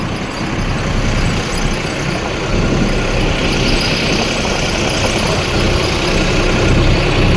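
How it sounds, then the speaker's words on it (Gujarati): A tractor driving home along a village road with its engine running, a loud, steady low rumble and vibration that holds constant throughout, with no voices. "ફાઇનલી મિત્રો ટાઇલ કમ્પ્લીટ ભરાઈ ગઈ છે અને આપણે ટ્રેક્ટર લઈને નીકળી ગયા છે ઘર તરફ."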